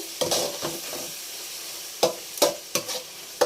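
A broad bean and tomato curry cooks in a pan, with a soft steady sizzle under sharp, irregular scrapes and knocks of a spoon stirring against the metal.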